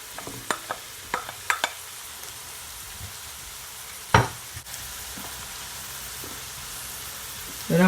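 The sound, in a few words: coconut rice being added and stirred into a frying pan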